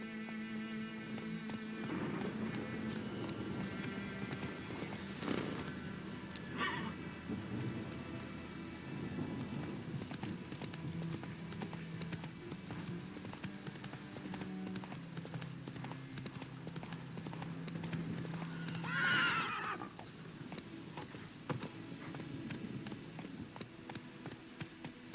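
Roach the horse gallops in The Witcher 3, hoofbeats drumming steadily over a soft wash of rain, with a faint rumble and a short swell of wind or thunder near the end.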